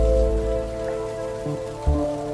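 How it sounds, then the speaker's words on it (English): Rain falls steadily in an animated short film, a constant wash of patter over a low rumble with a soft thump near the end, no voices present. "It's raining."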